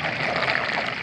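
Water from a pond filter outlet breaking the surface, a steady close splashing and trickling with no talk.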